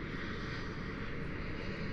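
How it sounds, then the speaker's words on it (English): An airplane at Gibraltar airport taking off, heard as a steady, distant engine roar that holds a constant broad rumble throughout with no speech over it. "How about airplane that's taking off?"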